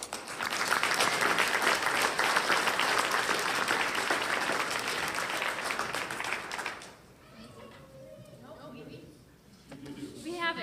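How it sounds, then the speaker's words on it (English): Sustained audience applause at a Sunday worship service, a dense wash of many hands clapping for several seconds before fading, then a voice speaking over the quieter room. "let's give them our applause, too"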